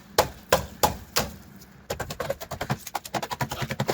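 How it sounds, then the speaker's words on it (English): Metal hammer blows on a rusted rocker panel of a 1997 Jeep Grand Cherokee, first a few spaced heavy strikes, then a rapid run of quicker, lighter taps, close and sharp with no talking. "Gonna hammer it down."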